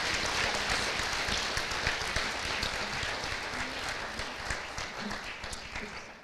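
Sustained applause from a large crowd at an FFA banquet, dense steady clapping filling the whole stretch without pause.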